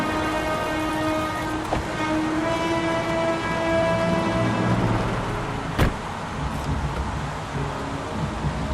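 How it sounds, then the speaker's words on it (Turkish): In the game Heavy Rain, steady rain hisses throughout at a crime scene, with a faint musical tone and a couple of sharp clicks rising above the downpour. "bayağı yağmur yağıyor"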